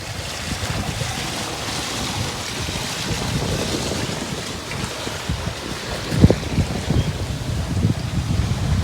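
A sailboat on a day sail in the Caribbean Sea off San Andres island, with steady wind rush and sloshing waves against the hull and a few louder splashes near the end.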